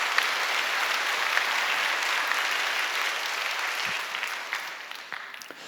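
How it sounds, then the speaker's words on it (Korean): A church congregation gives a long, steady round of applause, a soft continuous wash of many hands clapping at moderate distance that tapers off near the end. "우리 축복하며 박수를 한번 고마움 표현하겠습니다"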